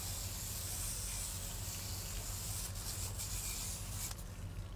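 Water sprays over a spike roller while it is rinsed off outdoors, a steady close hissing splash over a low rumble, continuous for several seconds, with no talking.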